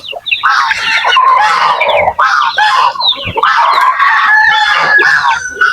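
Native chickens cluck and squawk close by in a loud, busy chorus of overlapping calls that continues throughout.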